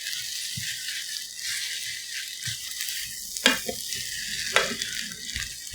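Ramen with vegetables and sausage sizzles in a pan under a continuous hiss, while a utensil stirs it with a few louder scrapes and clacks.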